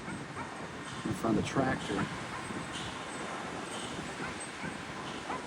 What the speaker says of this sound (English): You can hear a dog down there barking